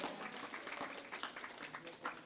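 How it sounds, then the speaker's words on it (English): A gathering at a Sunday satsang at a gurukula gives a round of applause, quiet and somewhat distant, with continuous overlapping claps and no talking over it. "Give them a round of applause."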